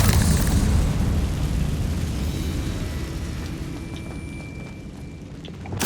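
A Confringo spell explodes in Hogwarts Legacy, a loud booming blast at the start that rumbles and fades over several seconds, with no talk.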